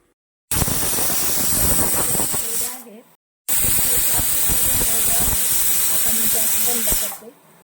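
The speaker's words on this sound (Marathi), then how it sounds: "आता आपल्याला चार शिट्ट्या कुकरच्या करून घ्यायच्या आहेत कुकर गॅसवर ठेवलेला आहे" A pressure cooker on a gas stove vents steam in two loud, harsh hissing bursts, each lasting a few seconds before cutting off, separated by a short silence.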